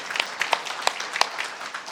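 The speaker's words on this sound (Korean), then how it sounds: "이럴 때는 박수 한번 쳐야 되는데" Sparse, scattered clapping from a church congregation, a handful of distinct claps at irregular intervals, fairly quiet and brief.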